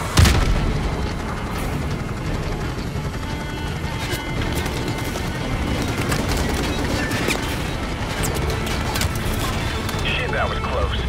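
RPG explosions and gunfire in Call of Duty 4 Modern Warfare Remastered rumble through a constant battle din, with a sharp blast at the start and scattered distant booms, heard under radio chatter.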